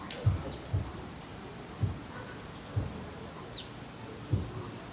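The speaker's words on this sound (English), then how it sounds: "And now we have a herd of birds." Birds gather around an outdoor breakfast table in Cabo San Lucas, giving faint chirps and soft calls alongside several low thumps spaced about a second apart.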